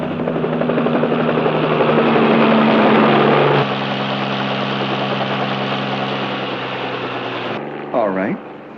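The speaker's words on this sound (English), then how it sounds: "They've even got a helicopter circling over the roof." A police helicopter's rotor thrums steadily and loudly as it circles over a roof, its pitch shifting slightly, with a brief voice breaking in near the end.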